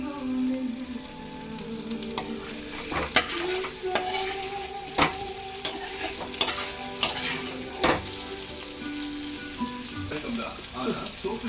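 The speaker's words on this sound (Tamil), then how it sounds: "இப்போ இந்த மிளகாத்தூள்லாம் நல்லா வதங்குற விதத்தில் வறுக்கணும்" Chili powder frying with chopped colocasia (cheppankizhangu) in a pan, continuous sizzling with scraping stirs and a few sharp clinks of the spatula, a faint voice in the background.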